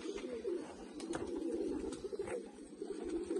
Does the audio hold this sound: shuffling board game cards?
no